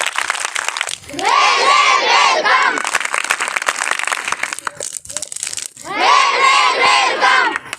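A crowd of schoolchildren erupts into loud cheering, shouting and clapping at a speech during a gathering linked to Parliament House, Delhi, with two long, dense bursts separated by a quieter stretch of scattered noise.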